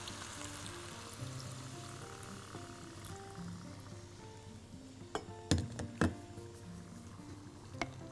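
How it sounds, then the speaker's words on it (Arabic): Water is poured into a cooking pot of vegetable rice simmering on the stove, a soft steady trickle followed by a few sharp clinks and knocks of the pot, quiet and close. "نحط شوية مية"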